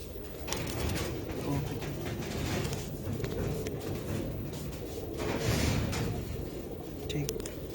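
Racing pigeons coo steadily in a loft, their soft repeated calls running throughout under someone talking close by.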